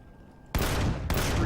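Turret gunfire in Empyrion: Galactic Survival at a Xenu fortress, breaking in after a half-second of quiet as a loud, dense, sustained burst of rapid shots, briefly dipping before resuming just as heavily.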